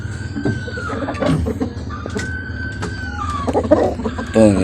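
Chickens on a hot day, just splashed with water, clucking and calling close by, with a rooster crowing and assorted squawks over a busy farmyard background.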